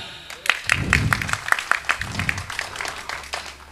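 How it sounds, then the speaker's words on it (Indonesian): An audience applauds at a political gathering for an East Java gubernatorial candidate, with steady clapping throughout and a low voice murmuring beneath it. "Tepuk tangan."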